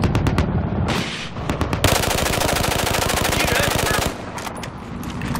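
Battlefield 4 gunfire on the Siege of Shanghai map: sustained loud machine-gun bursts with rapid, even shots, bracketed by scattered single shots before and after.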